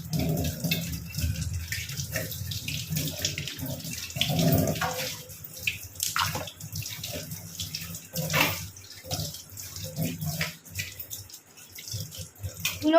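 Tap water runs and splashes while a kitchen container is emptied and rinsed out, an uneven close gushing with sloshes and drips that surge and pause over thirteen seconds.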